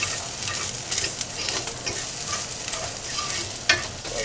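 Bacon bits stirred in a hot pan for chicken penne, a steady loud sizzle with repeated scraping strokes of a utensil and a sharper clack near the end, close up and without talk.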